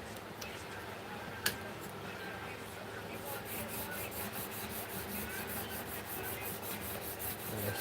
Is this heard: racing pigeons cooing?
no